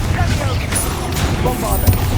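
Confringo fire spell blasts in the video game Hogwarts Legacy, a few quick booming bursts crackling in succession amid game effects, with a character's voice shouting over them.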